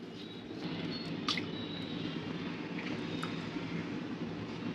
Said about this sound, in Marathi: त्यासाठी आता हे आपण स्वच्छ धुवून घेऊया।